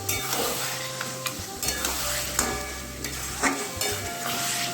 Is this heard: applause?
no